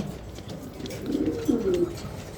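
Pair of racing pigeons cooing close by, soft low throaty coos rising in a short phrase over faint background noise.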